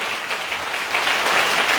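A congregation at an evangelistic church service claps continuously, a steady wash of applause that swells a little louder in the second half, with no speech over it.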